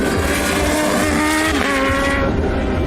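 A Kawasaki ZH2 with a 1000cc supercharged inline-four engine makes 200 PS as it accelerates hard. The loud, close engine note rises in pitch and surges through a short, intense pull, with no talking.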